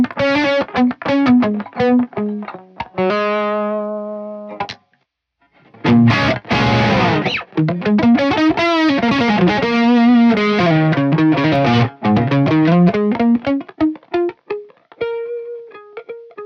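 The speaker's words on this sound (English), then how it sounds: "I can still get that mid-gain kind of sound, great for a more articulate classic rock type lead sound" Electric guitar with a mid-gain classic rock lead tone from a modeler, volume rolled back, plays articulate lead phrases with fast runs, bends and vibrato, a brief pause midway, loud and alone.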